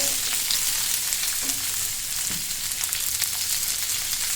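Chopped onions fry in a pan for Kerala-style chicken pollichathu, giving a steady, close, loud sizzle with occasional soft stirring clinks and no talk.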